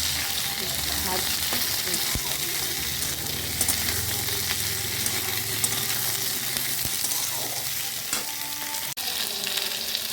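Papaya and carrots frying in a pan for a fish curry, a loud, continuous close sizzle with occasional stirring scrapes and a sharp tap near the end.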